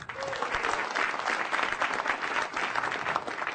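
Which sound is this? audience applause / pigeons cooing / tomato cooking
audience applause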